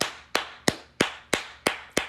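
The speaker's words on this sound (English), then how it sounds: "I'm just gonna give y'all a round of applause one more time" Seven sharp, evenly spaced handclaps in a slow steady rhythm, close and loud, with no voices around them.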